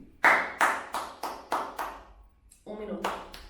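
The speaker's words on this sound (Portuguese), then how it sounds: "1 minuto de aplausos para este livro" Clapping in tribute to Truman Capote's book In Cold Blood: about eight sharp, close hand claps in a slightly uneven rhythm with a short pause, fairly quiet, with a voice speaking briefly near the end.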